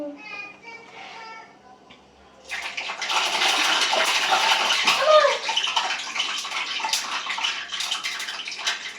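Loud crackling and spattering as water hits hot oil while frying vadas, a sudden burst of sizzle after a voice, continuing noisily.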